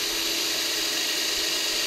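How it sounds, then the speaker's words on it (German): Continuous high whine of a power drill boring a screw hole in a tile-cutter conversion, steady and close for a short burst, no speech. "muss ich einfach nur hier jetzt weiter bohren."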